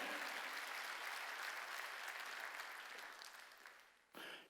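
A church congregation at a Sunday worship service clapping together, a dense, steady wash of many hands that fades toward the end, followed by a brief final burst, heard from a distance in a large hall.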